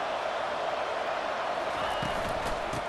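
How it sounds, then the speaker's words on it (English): Stadium crowd noise in EA Sports College Football 25 forms a steady, loud roar, dense and unbroken, with a few faint sharper bursts near the end. "listen to this crowd noise. This stadium is vibrating."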